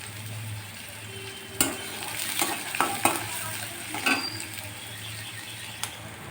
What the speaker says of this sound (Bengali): আর পেঁয়াজ আর রসুনটা আমি একটু ভেজে নেব।